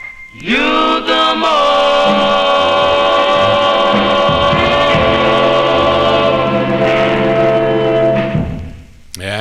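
A 1956 vocal group record plays loud and close as a rich sustained vocal harmony chord that holds for several seconds and then fades.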